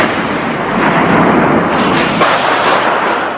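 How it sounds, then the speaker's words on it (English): Gunfire echoes through the halls of the Parliament building in Ottawa during a shooting, a dense, loud, reverberant barrage of overlapping blasts in a news recording. "The halls of Parliament exploded with gunfire after security forces spotted the suspected shooter."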